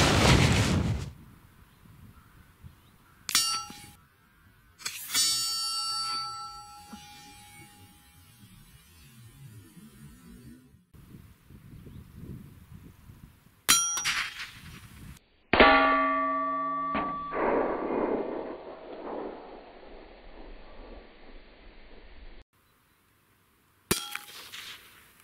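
Rifle cartridges, 17HMR and 22LR, striking a target downrange during a destructive test: several sharp distant cracks and metallic clangs spread over the span, one followed by a long ringing resonance.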